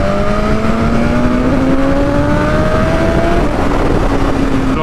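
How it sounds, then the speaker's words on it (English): A BMW S1000RR sport motorcycle rides hard into corners. Its engine note rises and falls steadily, and the exhaust gives off pops and crackles. The sound is loud and continuous throughout, with wind noise behind it. "that popping is delightful"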